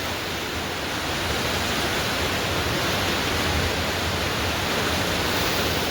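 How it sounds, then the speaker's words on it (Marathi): A river flowing strongly makes a steady, dense rushing roar, loud and unbroken throughout, with no voices. "नदीचे प्रवाह बघू शकता तुम्ही कशा प्रकारे नदीचे प्रवाह आहेत"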